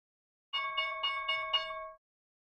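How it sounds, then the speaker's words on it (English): The stock market opening bell rings during a live futures day-trading session, giving five quick, evenly spaced electronic chimes with a clear tone, lasting about a second and a half before stopping cleanly. "The opening bell."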